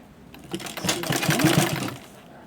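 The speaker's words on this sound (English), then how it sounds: "cover it like this and top stitch it from the beginning" A sewing machine top stitching an asooke cap runs in a short rapid burst of needle chatter, close and moderately loud.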